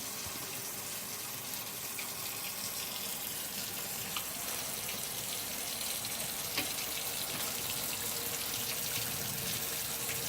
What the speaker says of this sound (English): we're going to have that sitting over the sink while we drain out the residual milk with the pressure of the water behind it